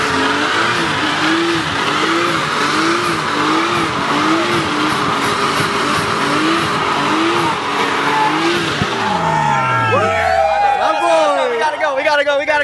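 A Nissan R32 drives past loud and near, its engine holding a rhythmic pulsing note, then revving hard as it accelerates and shifts, with a voice heard over it.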